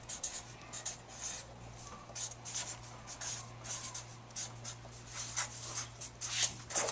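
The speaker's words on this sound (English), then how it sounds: "So I'm going to go ahead and write that on our chart here" A pen scratches out words on a classroom chart in short repeated bursts, close and fairly quiet, over a low steady hum, with no talking.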